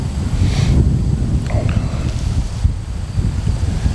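Strong wind blowing through trees around a hunting tree stand, a steady, loud rush with gusting rumble and buffeting against the microphone throughout.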